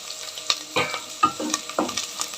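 Green chillies sizzling in a pan for noodles, with sharp spatula scrapes and stirs cutting through the continuous close frying hiss.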